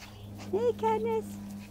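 Puppy outdoors giving two brief, high whimpers in quick succession, close and clear over a low steady background hum.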